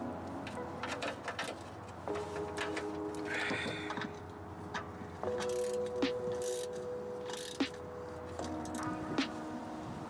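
Ratchet tightening the differential fill plug on a 1985 Jaguar XJ6 Series 3, faint repeated clicking strokes in short bursts with light metallic clinks, quiet and close in a workshop.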